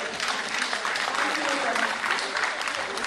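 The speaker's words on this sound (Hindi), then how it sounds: "एक बार ताली बजाकर स्वागत करें।" Audience clapping at a community introduction and talent award ceremony, a dense continuous wash of applause filling the whole moment.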